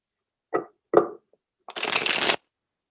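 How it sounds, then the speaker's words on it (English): Close-up card shuffling: two short riffling flicks, then a longer fluttering riffle as the deck is bridged together, in a quiet room. "Give it a couple more shuffles,"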